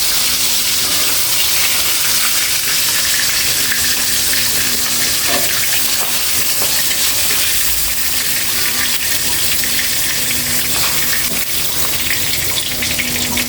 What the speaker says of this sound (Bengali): এখন মাছগুলো সব ভাজা হয়ে গেল